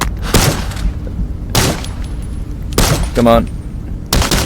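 Gunfire in the VR game Into the Radius 2, several bursts of loud shots with gaps between them, coming in clusters and mixed with someone talking and grunting.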